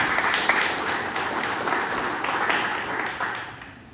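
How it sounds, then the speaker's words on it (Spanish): Church congregation gives an offering of applause, a sustained, moderately loud ripple of clapping in a reverberant hall that gradually dies away. "Regálenme una ofrenda de palmas"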